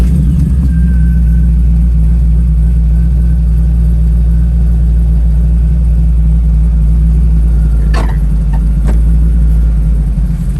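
A 1957 Corvette RestoMod engine runs at a steady idle, a loud, close, continuous low rumble, broken near the end by a couple of brief sharp clicks.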